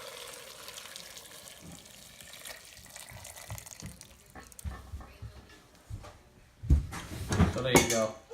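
Water runs into a sink while a fine mesh strainer used for turkey stock is washed. Scraping and clattering grow louder toward the end, and a voice speaks over the start.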